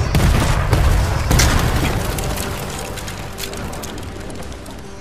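Gunfire and explosives in the video game Ghost of Tsushima: a loud, booming blast rolls out at the start, then heavy rumbling and scattered bursts fade gradually into a sustained roar.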